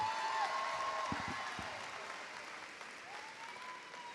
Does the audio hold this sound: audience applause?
yes